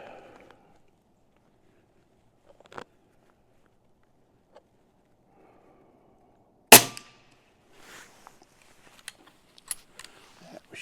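A custom Umarex Notos air rifle firing tiny pellets from a regulated 300cc bottle gives one sharp, loud crack, followed by faint clicks and handling noises in an otherwise quiet setting.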